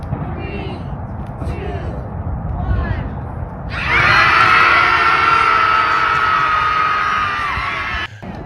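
Crowd screaming and cheering after a countdown at a live event, a sudden loud sustained roar of many voices that holds for several seconds before cutting off, following quieter talk.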